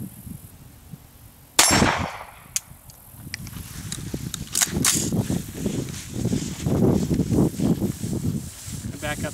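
Single sharp gunshot crack near the start, followed by a few lighter metallic clinks and then a stretch of talking over outdoor background noise.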